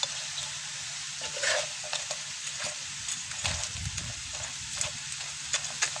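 Crispy taro (gabi) chips fry in hot oil with a continuous close sizzle, broken by occasional clatters and scrapes as they are stirred in the pan, with no talking.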